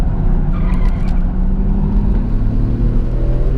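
A 1992 Nissan Skyline R32 GT-R engine drones loud and steady at speed on the Suzuka circuit, with a brief shift into third gear in the first second and the engine note then rising again.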